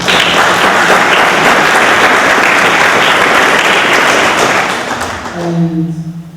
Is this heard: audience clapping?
yes